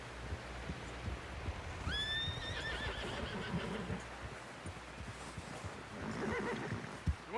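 A horse in Red Dead Redemption 2 gives a loud, clear whinny while its hooves clop and thud nearby, with a second quieter snort and some stamping toward the end.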